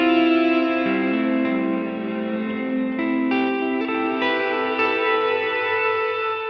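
Electric guitar chords run through a Line 6 Helix with delay feeding a Gaussian non-linear reverb, swelling into a dense, shimmering wash of echoes that sustains steadily throughout with no voices.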